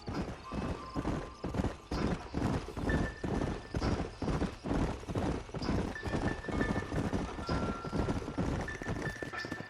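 Horse hooves clip-clop steadily in Red Dead Redemption, a dense, regular trotting rhythm heard close and loud throughout, with faint tack jingles and no talking over it.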